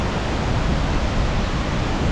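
A roaring waterfall near Kasang bridge in Spiti Valley gives a dense, steady broadband rush of falling water, loud and close with no pauses or voices.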